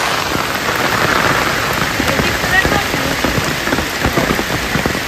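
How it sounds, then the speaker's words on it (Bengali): Heavy torrential monsoon rain pours down near a house, drumming densely and steadily on surfaces in a loud, unbroken roar close by. "আজকে প্রচণ্ড বৃষ্টি"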